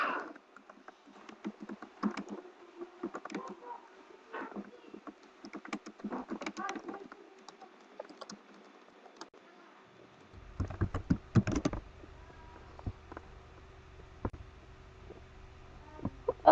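Bursts of clicky typing on a computer keyboard, close and fairly quiet, in uneven runs with pauses and a heavier clatter near the end.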